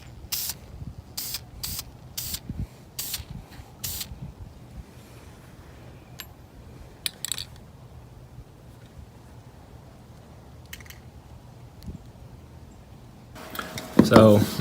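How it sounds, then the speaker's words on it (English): Short bursts of spray paint hit a wooden glide bait lure carved from a 2x4, several quick hisses in a row followed by quieter pauses, then one louder, longer spray right at the end. "I'm gonna spray it just like this with it facing away, so it will just get this back area"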